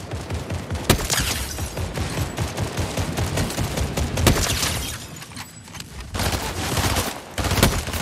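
Constant rapid gunfire and explosions in a Fortnite match, loud and dense, with sharp sniper-like cracks standing out above the continuous barrage.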